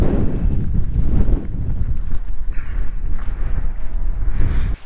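Strong wind buffeting at an outdoor bivouac spot on Lanzarote, loud rumbling gusts battering close to the microphone, easing slightly in the middle before cutting off.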